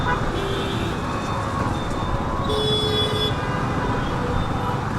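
Busy road traffic rumbles continuously, with a vehicle horn sounding partway through and fainter tonal honks mixed into the steady engine noise.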